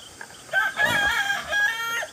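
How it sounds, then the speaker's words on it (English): A rooster crows once, a loud, drawn-out call from nearby, with a brief rising start and a long wavering finish. "as you can hear, the chickens are ready to"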